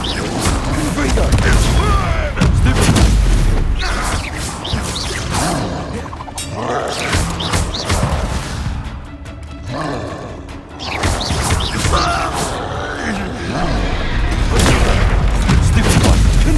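Fire spell blasts boom and roar during a Hogwarts Legacy duel, loud bursts of explosive combat effects layered with game music and a character's voice shouting incantations.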